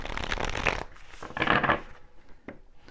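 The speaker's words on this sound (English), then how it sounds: "Just want to give these a little clearing, a little shuffle" Tarot cards are shuffled close up in a few quick riffling bursts separated by short pauses, soft papery flutters ending with a light tap.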